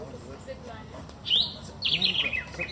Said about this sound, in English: And the bird song is just fabulous.